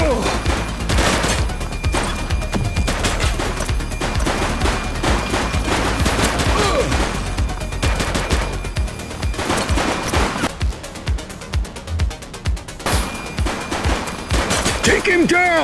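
Sustained gunfire in The Precinct, a police game set in the 1980s, with rapid bursts and single shots crackling nearly nonstop, loud and close, while voices call out over it.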